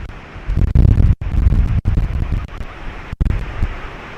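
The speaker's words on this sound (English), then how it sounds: "Look at those waves." Ocean surf breaks on the beach at Turtle Beach in Vero Beach, heard as heavy roaring bursts of waves mixed with strong wind buffeting the microphone, loud and rumbling.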